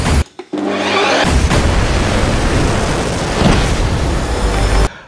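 A Ninja Creami ice cream maker starts up and runs loudly, a harsh, grinding whir that holds steady for several seconds before cutting off abruptly.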